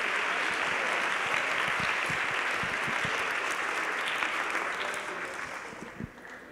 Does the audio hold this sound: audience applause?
yes